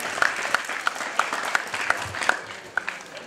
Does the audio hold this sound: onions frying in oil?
no